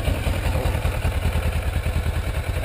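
A motorcycle engine idles in neutral close by, giving a steady, even pulsing rumble with a light mechanical clatter and no revving.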